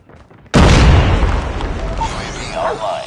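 A Call of Duty frag grenade goes off with a sudden, heavy boom after a short quiet moment, followed by a loud, rumbling wash of debris and reverberation that slowly subsides.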